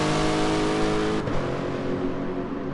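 A V8 race car in a Japanese GT championship racing video game revs hard, then shifts gear partway through, its engine note dropping before it builds again.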